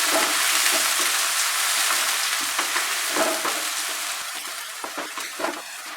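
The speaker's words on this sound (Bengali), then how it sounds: "পেঁয়াজ কুচানো, পেঁয়াজটাকে মাঝারি আঁচে ভাজবো।" Chopped onion frying in oil over medium heat for a jackfruit kofta curry, a dense close sizzle that thins slightly toward the end with scattered spatters and utensil scrapes, no speech.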